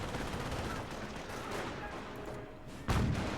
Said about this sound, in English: the infantry half track is still firing away